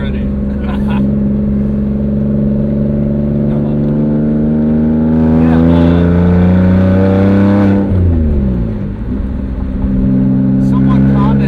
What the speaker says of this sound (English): when you downshift in this, I love the sound of it